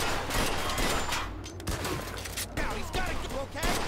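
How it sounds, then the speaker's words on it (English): Gunfire in the video game Mafia 2: Definitive Edition, a dense, loud burst of rapid shots and echoing fusillade filling the whole stretch, with no talk over it. "who the hell shot that?"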